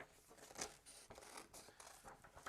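Scissors snip through a paper sheet while a whale shape is cut out, giving a few close, quiet crisp cuts and rustles with no voices.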